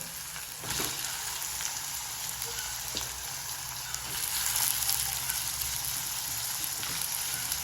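Tomatoes sizzling and frying in a hot pan of oil for a fish curry, a steady close crackling hiss that swells slightly partway through, with no voices.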